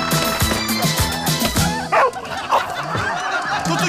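A dog barks and yips in a tense street scene, several harmonic barks near the start followed by whimpering yelps, loud and close over background noise and voices.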